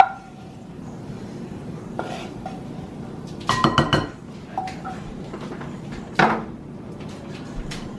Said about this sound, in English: All right, mix that really well.